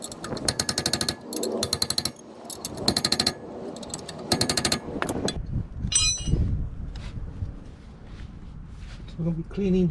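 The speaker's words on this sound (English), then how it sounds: "Okay, so I'm going to be bolting up the caliper mount." A brake caliper mount being bolted up on a 2007 Toyota with a power impact tool: rapid hammering bursts in several runs, close and loud, followed by clanking and handling noises.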